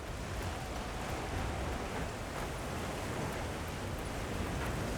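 Steady rain in the Monster Hunter Wilds video game makes a dense, even hiss that fills the scene without pause, loud and continuous with no voices over it.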